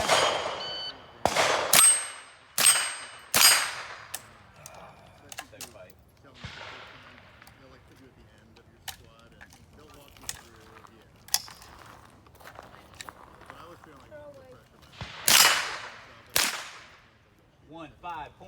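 Gunshots from a .22 LR AR rifle at an outdoor shooting match, a series of sharp cracks spaced a second or more apart, with a few loud close shots and fainter reports between them, and no one talking.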